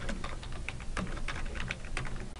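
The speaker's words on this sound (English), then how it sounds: "that will allow you to type in a business name" Fingers type steadily on a computer keyboard, entering a business name into a reviews feature, with a rapid, continuous run of close, crisp key clicks and no talking.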